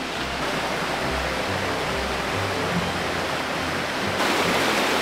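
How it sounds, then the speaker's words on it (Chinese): A stream beside a hillside village in Chiang Mai, Thailand, rushes in a dense, steady wash of water that fills the scene, close and loud, with no voices. "有没有听到溪水的声音？"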